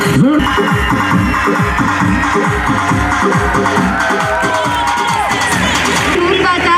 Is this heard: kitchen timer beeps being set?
no